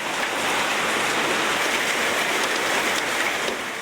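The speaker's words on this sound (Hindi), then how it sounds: "कराची में मौसम सरमा की बारिश ने फिजा को गर्दो गुबार से पाक कर दिया" Heavy winter rain pours down in Karachi as a loud, continuous, even hiss of falling water that holds steady throughout, with no voices.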